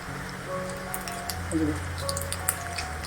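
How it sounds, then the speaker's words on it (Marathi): Mustard seeds hit hot oil for a Marathi ridge gourd gravy, crackling and spluttering in scattered faint pops over a low, steady background. "आता आपण एक चमचा मोहरी टाकूया"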